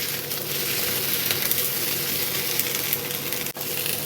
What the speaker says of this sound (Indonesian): Kemudian kita masukkan itu parenya dan kita tumis.